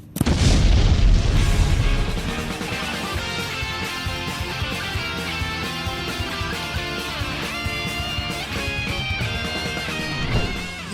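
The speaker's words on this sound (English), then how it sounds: "Explosion!" A booming anime explosion spell from Konosuba opens with a heavy, loud burst that decays over about two seconds into a sustained dramatic orchestral swell with a final rise near the end.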